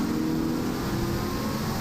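A mildly modified AMC 258 straight-six engine held at wide open throttle on a dyno gives a loud, continuous, steady drone with a rough mechanical texture throughout.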